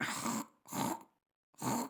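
A man imitates the throat-clearing hawk of someone bringing up phlegm before spitting: three harsh, rasping bursts, the third after a short silent pause, close and fairly loud.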